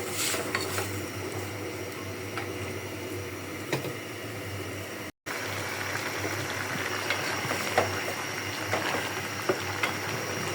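A pot of fish head with Malabar spinach and firmer vegetables simmers on a stove, giving a steady, faint bubbling hiss with small scattered clicks and taps of the cookware, and no talking.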